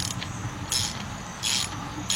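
Tightening rocker arm bolts on a Chevy Equinox or Buick Rendezvous engine during a head gasket rebuild, with two short, bright ratchet-wrench bursts of clicking separated by a brief pause, close up and without talk.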